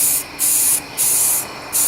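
Close aerosol spray paint hissing in three steady overlapping passes over a ported fiberglass subwoofer box, each burst around half a second with brief breaks between, loud and with no voices.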